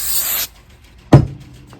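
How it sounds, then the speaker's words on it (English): Adhesive spray aimed at a 20-panel sublimation blanket: a short loud hiss of about half a second, a pause, then a second sharper burst that trails off. "you have to make sure you spray away, because if you spray too close, it makes marks on it."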